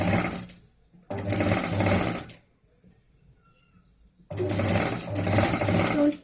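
An electric sewing machine stitches a zipper onto non-woven fabric for a travel bag, running in two loud bursts of rapid whirring with a quiet pause between them.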